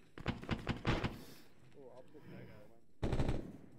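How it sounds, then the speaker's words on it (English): Arma 3 gunfire in two bursts of rapid shots, the first spread over about a second and a half and the second short and loud near the end, with a quiet stretch of distant noise between them. "was somebody shooting?"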